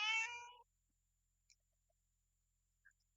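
A cat gives one short, close meow, then silence with a couple of faint tiny ticks.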